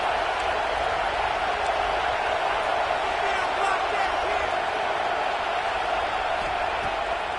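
A home crowd roars in a college football video game, Texas against UCLA, a dense, steady wall of cheering noise sustained throughout with no clear breaks.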